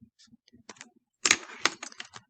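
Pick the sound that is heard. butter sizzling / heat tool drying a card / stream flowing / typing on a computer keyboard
typing on a computer keyboard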